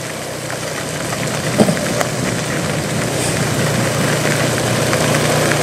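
A motorbike engine runs steadily while riding through a flooded street in Saigon's Nhà Bè outskirts after heavy rain, a continuous low hum with water wash and traffic noise all around.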